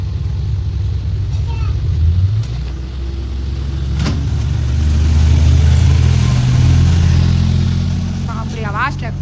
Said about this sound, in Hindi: बाप रे आवाज ट्रैक्टर का।